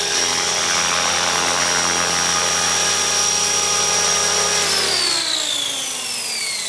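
An ALZRC Devil X360 RC helicopter flies with a steady high rotor whine and buzz that holds constant, then drops in pitch near the end, heard close and loud with no talk.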